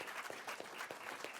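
Steady audience applause, many hands clapping in a dense, continuous patter at moderate distance, with no voices standing out.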